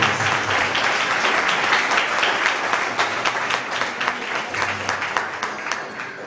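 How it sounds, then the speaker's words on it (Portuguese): Church congregation at an evening festival service gives strong, steady applause, a dense wash of many hands clapping at full volume throughout, with faint voices mixed in. "Dê um forte aplauso ao Senhor Jesus nessa noite."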